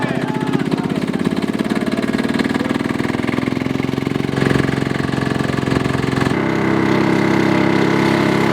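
A tractor engine runs steadily close by, a loud rhythmic chugging drone that holds even for several seconds, then shifts pitch and tone partway through as the load or throttle changes.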